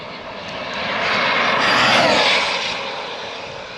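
A 1/5 scale Arrma Kraton RC car making a speed run of about 111 mph. Its high-pitched electric whine builds as it approaches, peaks loudly as it passes close by, then fades away as it recedes.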